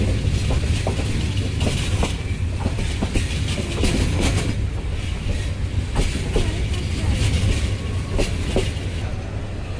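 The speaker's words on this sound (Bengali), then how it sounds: "বিকেল 5:50 ট্রেন প্রবেশ করছে ব্রাহ্মণবাড়িয়া রেলওয়ে স্টেশন।" A Jayantika Express train rolls into Brahmanbaria railway station with a steady heavy rumble and rhythmic clickety-clack of wheels over rail joints, heard close from on board with faint voices in the background.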